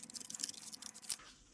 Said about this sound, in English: You get to see me cutting out this cardboard